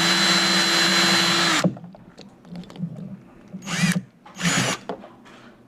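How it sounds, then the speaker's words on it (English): A power drill whines at high speed for about two seconds, stops, then fires in two brief bursts amid clattering handling noises, drilling a hole in a Thomas Trackmaster toy train. "So let's go ahead and start drilling."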